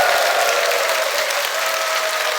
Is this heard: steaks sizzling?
no